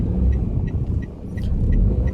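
A car passing on a road in Samar, Philippines, a steady low rumble of engine and tyres close by with faint chirping ticks above, no talk.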